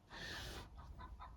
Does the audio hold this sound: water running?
no